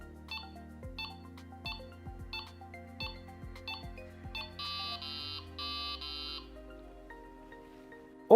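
A Delkim Txi-D digital bite alarm gives its countdown warning as a string of short electronic beeps with falling tones. The beeps come at a steady pace and give way to longer, higher paired tones, clear and alone.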